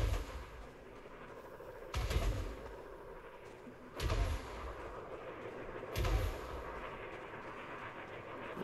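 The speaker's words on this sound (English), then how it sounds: "Are they shooting my ship?" Heavy weapon fire aimed at a ship in Elite Dangerous Odyssey: three deep, booming shots spaced about two seconds apart, each decaying into a low rumble over a steady hum.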